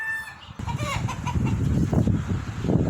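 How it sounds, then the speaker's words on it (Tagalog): Several native chickens cluck and squawk nearby at a windy poultry yard in a lively, overlapping chatter, with a short rooster-like call at the start. "mga manok nila guys, oh. Puro native guys"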